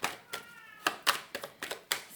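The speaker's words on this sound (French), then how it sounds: "vous allez sûrement entendre Maya qui miaule." A house cat gives a short, faint meow amid a run of sharp, irregular tapping clicks, several quick hits spread across a couple of seconds in a quiet room.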